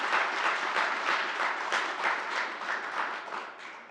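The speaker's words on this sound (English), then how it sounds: "Please give a round of applause to all our sponsors." A conference audience claps for the event's sponsors, steady dense applause that holds for several seconds before easing off toward the end.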